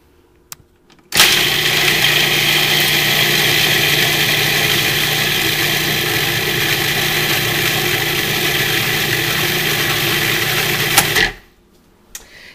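A blender whirs garlic, salt, spinach and rosemary into raw pesto. It starts abruptly with a loud, close motor drone that holds steady for about ten seconds, then cuts off.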